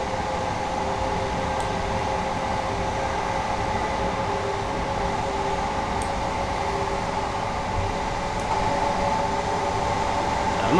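Class 377 electric train in Train Sim World on the East Coastway Line, a steady rumbling hum of rolling stock with a fan-like whir, even and continuous.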